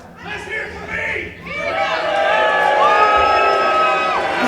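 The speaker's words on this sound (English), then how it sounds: "The fans are back and forth with Kane and Apollo" Wrestling fans at a live event cheer, whoop and shout back and forth, the crowd noise swelling louder and more sustained midway through, with voices chattering among them.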